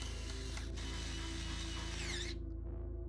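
Screws being driven back into a PC case during a build with a Cougar Blazer chassis, a steady close ratcheting whir from a screwdriver running nearly continuously over a constant low hum, then stopping abruptly.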